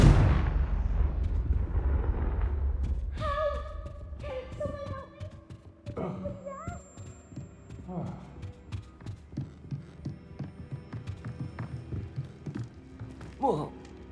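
An explosive Confringo spell goes off in the Hogwarts Legacy video game, opening with a deep booming blast that rumbles and fades, followed by scattered magical chimes, thuds and impacts with some speech mixed in.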